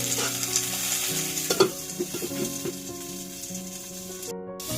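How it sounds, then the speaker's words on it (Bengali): Flat beans fry in a covered pan over a low flame, giving a steady close sizzle with a few soft stirring clicks and no voices. "সিমটা একটু আমি ভাজা হতে দেবো, সেই জন্য ওটা একটু লো ফ্লেমে চাপা দিয়ে দিব।"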